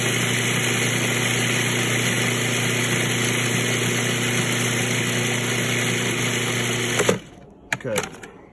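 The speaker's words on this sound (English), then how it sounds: "There's one pesky pepper in there that doesn't want to grind, so I'm moving him around a little bit." An electric grinder whirs as it grinds hot peppers, a loud, steady motor drone that runs for several seconds and then cuts off, followed by a few faint knocks.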